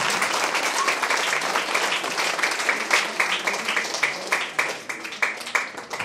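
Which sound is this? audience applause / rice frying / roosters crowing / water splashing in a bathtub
audience applause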